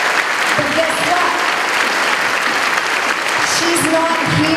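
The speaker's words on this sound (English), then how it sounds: "you can give her a round of applause" At a school back-to-school staff assembly, a crowd of staff claps steadily for a few seconds, the applause loud and continuous with scattered cheers and voices mixed in.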